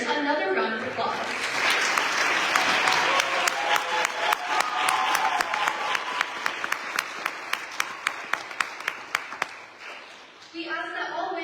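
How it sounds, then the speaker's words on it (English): Audience applause at a graduation and award ceremony for nominees and winners, steady broad clapping that swells then thins, with a few sharp claps near the end before a voice resumes. "Let's give all of our nominees and winners another round of applause."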